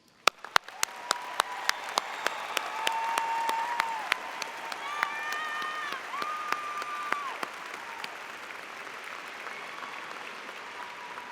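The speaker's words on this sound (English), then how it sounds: "with the audience join me in applauding our newest EDDs and PhDs and" An audience at a 2019 University of Arkansas commencement applauds new doctoral graduates, with sustained clapping that builds quickly and holds steady before slowly thinning, and a few sharp claps standing out nearby.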